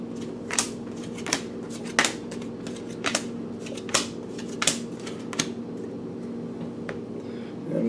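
Tarot cards shuffled at close range, a run of sharp riffling snaps coming in an irregular rhythm over a low steady hum.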